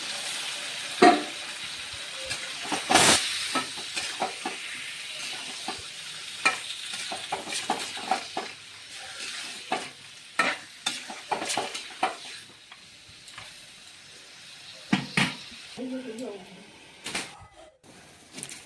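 Mutton frying with browned onions in a pan and being stirred, giving bursts of sizzling and scraping scrapes in irregular rhythm, close and moderately loud, with someone speaking at times over the cooking.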